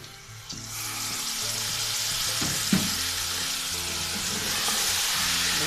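Chicken frying with onions in a pan hisses steadily and loudly as a bowl of yogurt is poured in, with a short splash and stir partway through and the sizzle continuing without speech.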